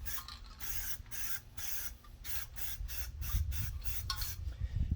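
Spray paint hisses out in a series of short, light bursts as fuel containers for off-road use get thin coats, each trigger pull a separate puff with brief gaps, close and steady, no voices.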